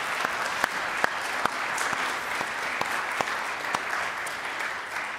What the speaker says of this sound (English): Will you permit us a round of applause?